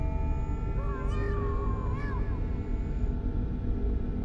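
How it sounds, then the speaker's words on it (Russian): In the video game Five Nights with Froggy 2, a cat-like meow rises twice in quick wavering cries over a constant low rumbling game ambience. "Какой-то звук такой был, знаете, типа кошачий"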